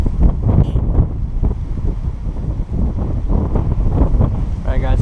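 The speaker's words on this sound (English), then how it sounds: "It's really fucking windy. Really windy." Strong wind buffets the microphone with a loud, constant low roar at a lakeside golf course pond, steady with no breaks, while a voice speaks over it.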